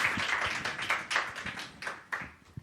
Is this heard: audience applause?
yes